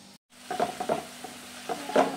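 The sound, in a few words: shankarpali dough pieces deep frying in oil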